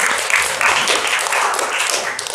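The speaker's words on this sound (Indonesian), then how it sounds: "tepuk tangan untuk Alin." Classroom applause from students, a dense bright patter of many hands clapping steadily for about two seconds, loud and close, with no voices over it.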